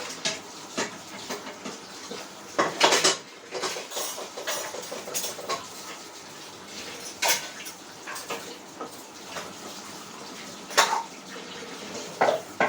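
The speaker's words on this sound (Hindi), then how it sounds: "बर्तन धुल के," Dishes and utensils being washed by hand with water and no soap: irregular clinks and clatters of metal vessels, with splashing and running water, close by.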